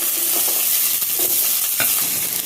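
Onions fry in coconut oil with popped mustard seeds for a mackerel fish gravy, giving a close, steady sizzle broken by scraping stirs of a spoon in the pan, with no talking.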